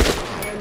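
A single loud gunshot in the Metro: Last Light Redux video game cracks out at the very start, then its echo fades across a short moment.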